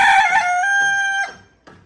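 A rooster crows loudly and close by in a long, drawn-out call, followed by a brief cluck, in a village.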